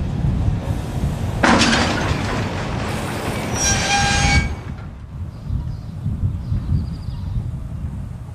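Freight trains loaded with steel coils roll out of Busdongo with a constant rumble of wheels on rail, a loud metallic squeal of wheels for a few seconds in the middle, then the steady rolling noise fades slightly.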